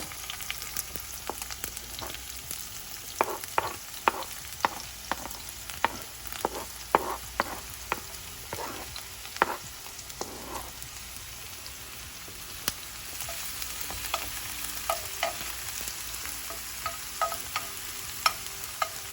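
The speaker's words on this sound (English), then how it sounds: "Saute it until the onions are more translucent." Onions and a Scotch bonnet pepper sautéing in a pan for Jamaican ackee and saltfish, a steady close sizzle with repeated sharp clinks and scrapes of a utensil stirring.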